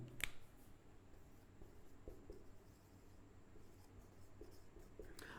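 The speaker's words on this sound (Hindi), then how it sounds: "मैं आपको यहां परिभाषा लिख देता हूं इसकी" Chalk or marker writing a definition on a classroom board: faint scratchy strokes and taps in a quiet room, with a sharper tap near the start.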